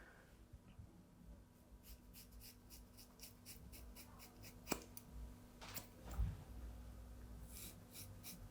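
Metal scissors snipping through thick hair, heard as a run of quiet, regular crisp snips with a few louder clicks of the blades, close by over a low room hum.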